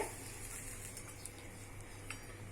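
A pan of gunda vegetable is stirred with ginger and spices, giving quiet scraping and light clinks of a utensil against the pan over a faint background hum.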